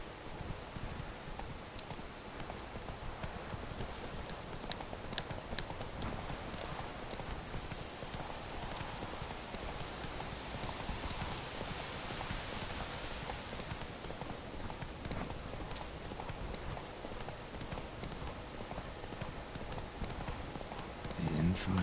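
Steady hoofbeats of a horse galloping in the video game The Witcher 3: Wild Hunt, continuous and rhythmic under a dense mix of game sound, with voices talking over it throughout.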